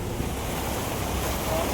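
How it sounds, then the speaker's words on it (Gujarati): Floodwater surges through the streets of Tharad, a dense, constant roar of rushing water mixed with wind buffeting the microphone, no pauses. "જો કેટલું પાણી હાલે છે."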